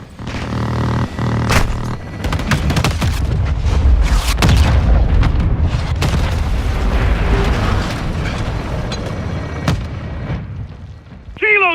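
Air support strike in a military video game, heavy booming explosions rolling one after another in a dense, loud barrage with mechanical rumble underneath, sustained for several seconds before a short fade.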